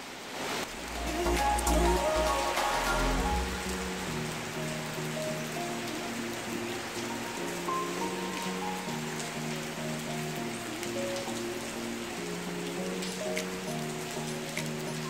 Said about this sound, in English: It's rainy, man. Yeah, it's rain.